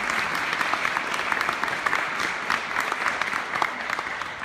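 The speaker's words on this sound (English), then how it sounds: "let's all please join me in giving them a round of applause" An audience applauds orchestra members at an Indianapolis Symphony Orchestra season event, with steady, dense clapping that stays full and even throughout, without talk over it.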